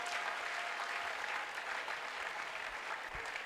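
An audience at a church gathering applauds continuously for a few seconds, with dense and steady clapping and no pause.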